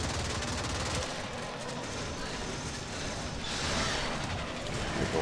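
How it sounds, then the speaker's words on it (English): Sustained gunfire from the player's weapon in the shooter game Warframe, a dense continuous rattle of shots over loud game noise with no pause throughout. "Yeah, I'll use my gun."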